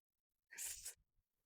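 One sharp, breathy sneeze bursts out close to the microphone in otherwise near silence.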